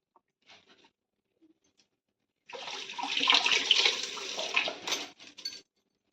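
Mutton is rinsed under a running tap, water splashing and pattering steadily for a few seconds after faint handling sounds, then tapering off into a few brief splashes.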